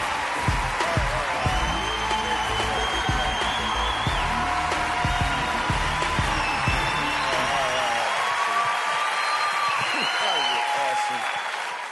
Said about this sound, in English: stand up and put your hands together for Michael Jr.